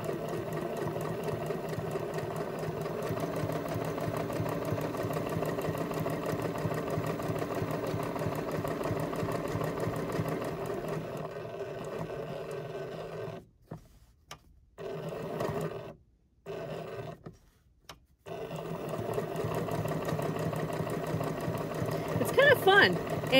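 A sewing machine hums steadily and stitches fabric up close, pausing briefly a few times before resuming, with a person talking over it.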